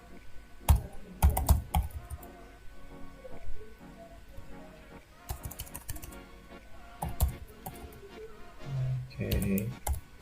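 Computer keyboard being typed on to enter an email address, close and fairly loud, with irregular bursts of key clicks separated by pauses.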